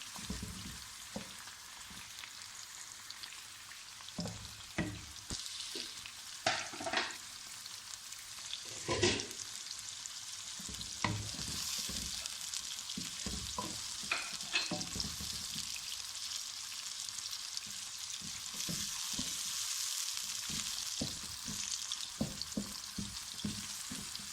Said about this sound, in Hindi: सबसे पहले तेल में प्याज शामिल कर दें। इनको हल्का सा फ्राई कर लें।